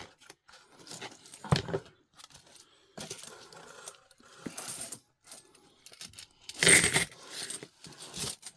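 US coins, including 2025 golden American Innovation dollars, pour out of a holder in bursts of metallic jingling and clinking, several separate tumbles over a few seconds, close and bright, with no talking.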